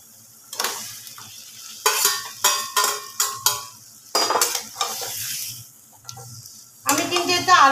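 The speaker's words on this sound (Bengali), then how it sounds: "এর মধ্যে দিয়ে দেব ম্যারিনেট করা চিকেনটা।" Marinated chicken hits hot oil in a pan for a milk chicken curry, loud bursts of sizzling with stirring and spoon scrapes against the pan, pausing and surging again several times, close by.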